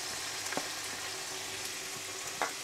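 Chicken sizzles in a pan as mushrooms and chopped carrots are stirred in, a steady close frying hiss broken by a few soft scrapes and clinks of the spoon, with no voices.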